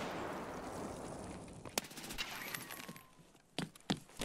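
In a shooter game a grenade blast rumbles and fades over the first second or two, followed by sharp crackling gunshot bursts near the end, moderately loud with no talking.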